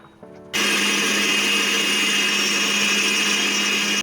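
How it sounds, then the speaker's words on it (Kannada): A mixer grinder grinding masala paste starts up after a short moment and runs at a loud, steady, high-pitched whir, grinding continuously until the end. "ಇದನ್ನು ಹೋಗಿ ಗ್ರೈಂಡ್ ಮಾಡ್ಕೊಂಬರ್ತೀನಿ ನುಣ್ಣಕ್ಕೆ"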